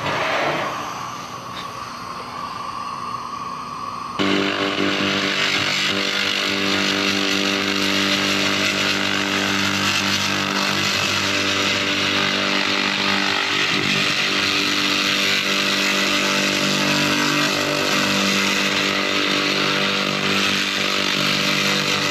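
A 2000W laser cleaning machine strips old heavy scale from metal near a weld and crack, producing a loud, continuous buzzing roar with a harsh hissing edge that starts abruptly after a quieter opening and holds steady throughout.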